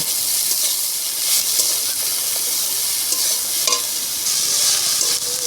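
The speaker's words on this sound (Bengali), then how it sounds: "এবার সব শাকগুলোই আমি দিয়ে তেলের ভিতরে একটু ভালো করে নেড়ে চেড়ে মিশিয়ে নিয়ে পরে আমি লবণ হলুদ দেব" Koloi spinach greens stir-fried in hot oil, giving a steady loud sizzle and hiss throughout with occasional scraping stir sounds, no voices.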